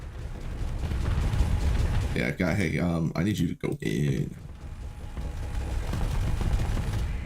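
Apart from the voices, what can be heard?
cannon fire in the video game Starsector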